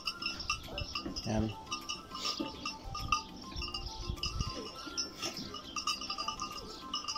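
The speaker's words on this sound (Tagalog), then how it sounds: "Yan guys yung kambing." Goats and sheep kept on a mountain farm, a few bleats rising over clinking and shuffling while someone talks nearby.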